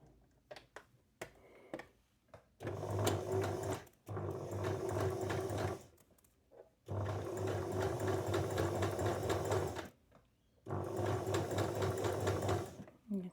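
A sewing machine stitches elastic onto a dress strap in three long whirring bursts separated by short pauses, steady and close with faint clicks between runs.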